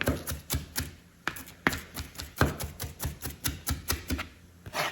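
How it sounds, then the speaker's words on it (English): Fresh dill rough-chopped with a kitchen knife on a cutting board, a quick irregular run of crisp close-up taps and knocks, steady for about five seconds with no talking. "And then I'll go back over and rough chop it up."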